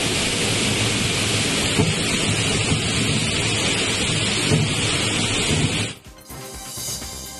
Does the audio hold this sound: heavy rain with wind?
yes